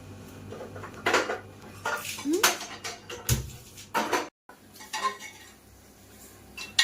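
Metal pots and utensils clatter and clink repeatedly in quick, irregular knocks, close by, in a kitchen where mutton biryani is being made in a pressure cooker, with a brief silence partway through and faint background noise.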